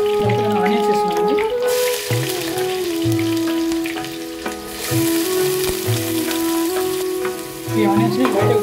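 Onions sizzle and crackle in a hot kadai with green chillies, cloves and cinnamon for mutton curry, a continuous bright frying hiss broken by repeated scraping stirs of a spoon against the pan.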